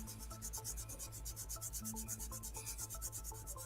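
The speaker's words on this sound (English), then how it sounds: "you can see how it kind of builds up on the eraser, and I can really feel it when I rub over it" Eraser rubbed back and forth over marker ink on paper while testing skin tone Sharpies, a close, steady scrubbing rasp repeating in quick even strokes throughout, with no talking.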